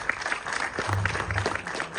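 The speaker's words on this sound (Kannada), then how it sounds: "ಜೋರಾದ ಚಪ್ಪಾಳೆ" Applause from an audience at an award ceremony honouring actor Rangayana Raghu, a steady dense patter of clapping at moderate level for a couple of seconds.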